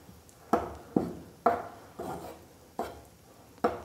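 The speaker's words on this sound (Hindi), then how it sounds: "और इसको हम इस तरह से हल्का हल्का चलाएंगे" Atta being stirred and scraped in a pan for laddoos, six distinct scraping strokes repeating roughly every half second, each a short rasp that fades, close and fairly quiet with no talking.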